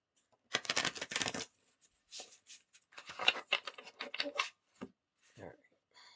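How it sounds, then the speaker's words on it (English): Thick cards are shuffled in several quick riffling bursts separated by short pauses, close and fairly quiet. "They're hard to shuffle, though, because they're very thick."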